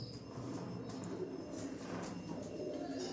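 Giribaj pigeons coo softly and repeatedly under a steady wash of background noise.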